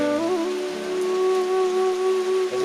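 Steady rain falls on flooded rice-paddy seedlings after a night-long downpour, a continuous close hiss with faint tonal whine running through it and no voices.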